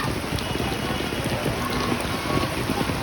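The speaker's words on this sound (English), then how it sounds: "Powerful rain." Heavy monsoon rain pours down on a street near Boudhanath Stupa in Kathmandu, Nepal, in a dense, constant hiss and patter on surfaces, close and loud, without letup.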